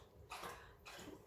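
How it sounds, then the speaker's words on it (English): A dog laps water from a bowl in two faint, close bursts of wet slurping, quiet and with no voices. "My dog's drinking water, as you can hear"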